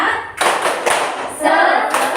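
Group of women clapping together in a rhythmic chant-clap during a classroom-style workshop session, a few sharp bursts of hand claps close by with brief vocal shouts between them.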